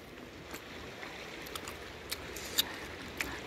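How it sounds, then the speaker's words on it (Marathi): The Lech river flows near a village outside Füssen, a faint, even rush of water with a few soft clicks and ticks scattered over it. "हे या गावातली नदी."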